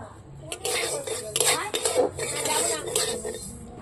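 Dry mung dal rattles and scrapes in a pan as a utensil stirs it steadily while it fries, with repeated clinks of metal against the pan throughout.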